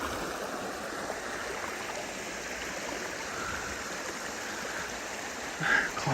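Creek water flows over a small gravel bar, a steady broadband rushing and babbling that continues throughout, close and uninterrupted, with no voices.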